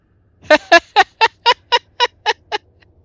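Rapid series of about nine loud clucking squawks from a chicken in Resident Evil 4 Remake, evenly spaced and alone, fading slightly toward the end.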